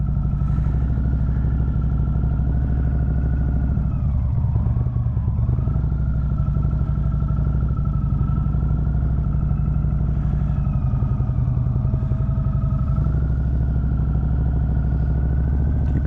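Motorcycle rolling slowly through an offset cone weave drill, its engine held at a steady low idle-like rumble with light throttle changes and faint clatter, close and continuous with no talk.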